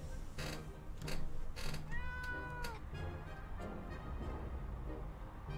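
A cat in the video game 60 Seconds meows a few times in quick succession near the middle, clear and close, amid soft ticking and tapping game sounds.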